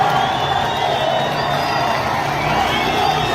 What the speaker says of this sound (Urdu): یہ ذرا آواز بھی سنوا دیجیے گا کہ وہاں پہ جو نعرے لگ رہے ہیں